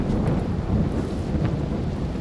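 Steady rain with rolling thunder in the RimWorld video game, a dense continuous wash of downpour with low rumbles throughout, fairly loud and with no talking.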